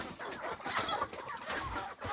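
Four-month-old native chickens clucking close by, a quick run of overlapping soft clucks and chirps from several birds, moderately quiet, with no talk.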